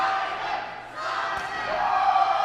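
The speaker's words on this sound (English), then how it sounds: "Again, crowd firmly behind Simon." A D1W wrestling crowd roars in support of Simon Sezz, a continuous massed cheer that dips briefly and builds again, with a single dull thud from the ring partway through.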